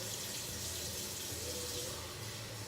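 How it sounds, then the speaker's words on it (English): Two cups of water poured into a cooking pot in a home kitchen, a steady continuous splashing gush that holds level for a few seconds, close and fairly loud with no talking. "the first thing I'm gonna do is put in 2 cups of water"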